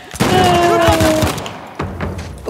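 In Uncharted: The Lost Legacy, loud, close gunfire cracks in a rapid volley, then a couple of further shots follow after a short gap.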